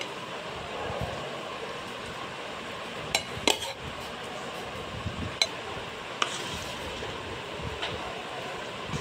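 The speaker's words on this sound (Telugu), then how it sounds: "ఈ కుక్కర్లో వండిన అన్నాన్ని ఇలా వేసి బాగా కలుపుకోవాలి" Cooked rice being mixed in a pan for kothimeera egg rice, a spoon scraping and clinking against the metal in a few sharp taps over a faint, steady background.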